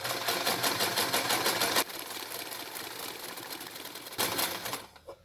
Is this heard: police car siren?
no